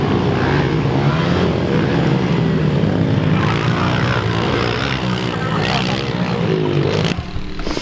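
Drone flying overhead at a muddy pit bike riding session, its steady engine-like whine droning continuously and fairly loud for the whole stretch, with faint voices mixed in and a brief dip near the end.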